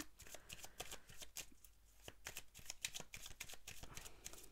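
Tarot cards being shuffled by hand, a rapid run of crisp riffling flicks and slaps up close, steady and uninterrupted with no talk.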